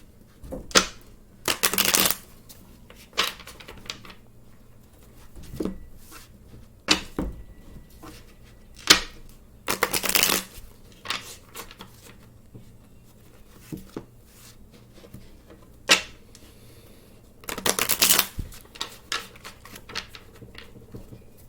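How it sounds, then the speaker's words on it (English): Tarot cards shuffled by hand in repeated bursts of riffling and sliding, quick crisp flurries separated by short pauses and softer handling sounds, close and fairly quiet with no talking. "But I'm going to be shuffling for a little bit and thinking in silence."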